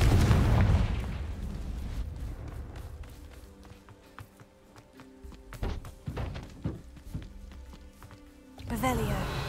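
In the Hogwarts Legacy video game, a Confringo blasting spell goes off as a loud booming explosion at the start and slowly dies away, then is followed by clattering debris and scattered thuds, with a voice speaking over the game sound.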